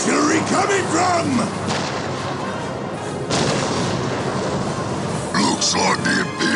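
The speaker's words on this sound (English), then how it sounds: "Where's that artillery coming from?" Artillery fire from the real-time strategy game Dawn of War Winter Assault booms repeatedly in heavy, rolling blasts, mixed with battle noise and in-game unit voices.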